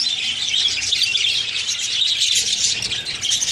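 Chirping from a budgie colony with newly hatched chicks fills the air, a dense continuous chatter of many small high-pitched tweets close by, steady throughout with no talk.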